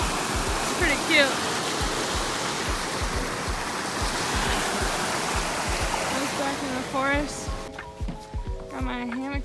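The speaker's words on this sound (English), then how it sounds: "this is what's on the other side of our little campsite. It's this little creek." Small creek beside a backcountry campsite in the Canaan Mountain area, a steady close rushing and gurgling of shallow water throughout, with a person talking briefly over it near the end.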